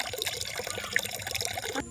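Slow water running into a container at a rural settlement in Sitio Haduan, a thin steady trickle with faint drips continuing for two seconds, close and fairly quiet.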